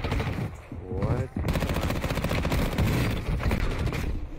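Warzone 2 gunfire rattles in sustained automatic bursts, loud and close, with a short pause before a long continuous stream of rapid shots.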